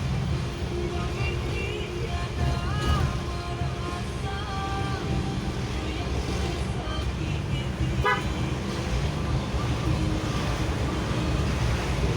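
Congested holiday road traffic during Lebaran on the way to Panton, with car horns tooting in short bursts over a steady engine and roadway rumble, a busy jam close by.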